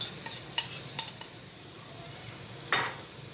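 A spoon stirs tomato sauce with garlic and fat in a pan, giving a few sharp metallic scrapes and clinks over a faint, low sizzle, with one louder scrape near the end.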